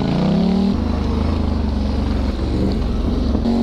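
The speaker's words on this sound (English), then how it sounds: "I hit the rev limiter" Can-Am Renegade 1000 ATV ripping through woods in low gear, engine held at high revs near the rev limiter, a loud, close, buzzing roar with a brief dip midway and a shift in pitch at the end.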